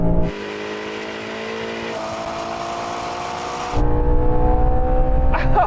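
A Ferrari Purosangue engine sounds loud and close, a sustained high rev that holds steady and then drops into a deeper, rougher roar near the end.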